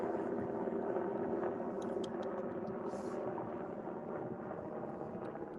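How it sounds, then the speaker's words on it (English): A helicopter passes overhead outdoors during a catfishing trip, a steady broad rumble and whir holding throughout at a moderate, fairly even level, slightly fading toward the end, with no talk over it. "Let this helicopter go over."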